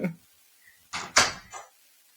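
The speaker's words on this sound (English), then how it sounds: "can you do me a huge favor? You shut my door?" A bedroom door pushed shut, a few quick knocks and a sharp latching thud clustered together, close and moderately loud, after a brief voice at the start.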